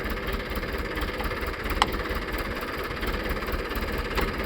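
A tractor engine idles with a steady, low, throbbing mechanical rumble that stays even and close throughout, with no clear rise in revs and no talking.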